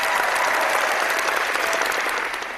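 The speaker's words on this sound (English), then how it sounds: "I guess a round of applause to them as well" A burst of dense applause from many hands, loud and continuous, tapering slightly at the end.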